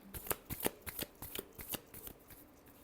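Tarot cards shuffled in quick riffling bursts, about a dozen crisp papery flutters in an irregular rhythm, close and fairly soft, with no talking.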